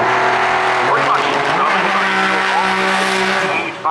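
Bracket drag racing car at Maryland International Raceway roars loudly and continuously at full throttle, the engine note climbing as it pulls hard down the strip before easing off at the end.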